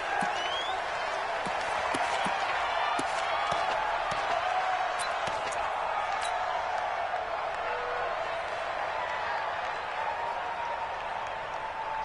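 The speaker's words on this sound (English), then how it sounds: "the crowd getting into it as we come up on a big 3rd down" A stadium crowd roars and applauds continuously in a PS4 football game as a big third down approaches, a dense, loud wall of cheering with scattered whoops, and a commentator's voice rides faintly underneath.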